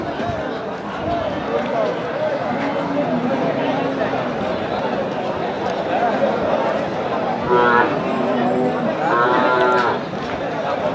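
Crossbred cattle lowing and mooing at Bosunia Haat, a busy livestock market, with a crowd of voices talking steadily in the background.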